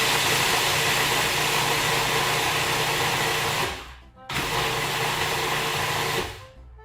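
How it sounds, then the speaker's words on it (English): A food processor grinds almonds, flour and salt for an almond-pear tart, a loud steady whirring drone that cuts out briefly, runs again, then stops. "And I'm going to grind this up, and then I'm going to add some other stuff"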